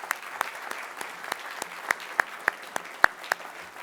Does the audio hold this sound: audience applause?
yes